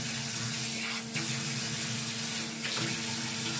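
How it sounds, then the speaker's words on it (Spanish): Lukewarm tap water runs steadily from a faucet while a hydrating foot mask is rinsed off, a continuous close hiss with two brief splashing bursts as the flow is disturbed. "Vamos a retirar la mascarilla con agua tibia."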